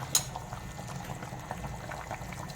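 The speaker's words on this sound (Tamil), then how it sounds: "தண்ணி நல்லா கொதிச்சிருச்சு." Water bubbles at a rolling boil in a pot, a soft continuous burble of popping bubbles, fairly close.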